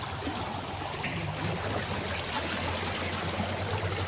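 A stream pours at the Venna Muddala Gandi waterfall in a steady, fairly close rushing wash of water with no breaks and no voices.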